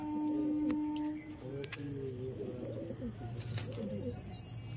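Madrasi pigeons coo in low repeated calls, fairly close, over a constant background hum, with a few faint chirps and brief rustles, and no talking.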